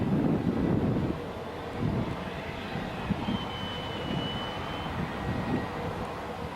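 A helicopter drones overhead, its rumble loudest at first and then fading slightly, with wind buffeting the microphone.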